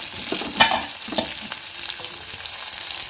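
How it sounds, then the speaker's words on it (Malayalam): Garlic and curry leaves sautéing in a pan for a curry-leaf curry, a steady bright sizzle with a few louder stirring scrapes near the start, close and alone without talk. "ഇതെല്ലാം കൂടെ നന്നായിട്ടൊന്ന് വഴറ്റിയെടുക്കാവേ"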